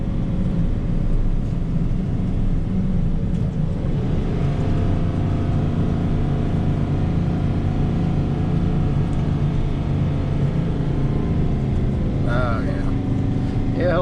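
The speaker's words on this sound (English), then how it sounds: "Let's try this exhaust brake out." A 2019 Ford F-750 dump truck rumbles downhill under load with its exhaust brake engaged, a steady deep low drone running throughout at close range, with no obvious speech over it.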